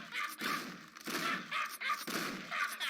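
Gunfire in the video game Red Alliance: a run of regularly spaced shots roughly every half second, fairly quiet and even, with no talking over it.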